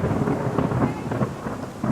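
Thunder rumbles through a storm in Friesland alongside steady rain, a continuous loud wash of low rolling booms and hiss with no pauses, no voices heard.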